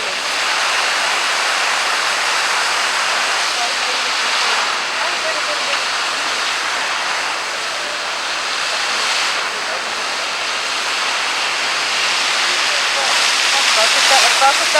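Bellagio fountain water shooters in Las Vegas launching jets of water; a broad, continuous rushing hiss holds steady and fairly loud throughout, swelling slightly toward the end.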